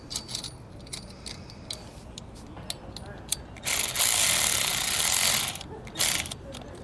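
Ratchet snugging down bracket hardware on a Blue Ox KarGard protective shield for a towed vehicle: scattered light clicks and jangles, then a couple of fast, loud bursts of ratcheting close by.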